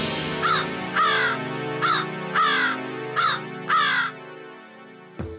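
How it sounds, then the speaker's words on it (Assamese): A crow caws six times in uneven bursts, loud and close, with a steady musical drone underneath in an animated cartoon setting. "সেয়া কাউৰী আহিছে"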